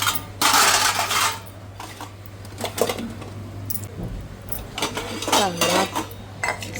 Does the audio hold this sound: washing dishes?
yes